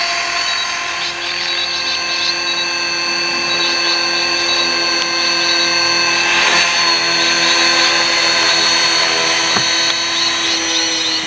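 A 450 Pro TT radio-controlled helicopter flies with a steady, continuous high-pitched whine of motor and rotor, its battery running low, holding an even level throughout without any talk.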